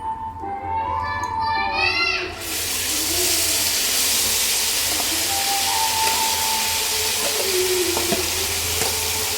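Jackfruit seed halva paste sweetened with jaggery syrup cooks in ghee in an uruli, making a loud, continuous hiss and sizzle as it is stirred. A voice speaks briefly at the start, before the hiss swells.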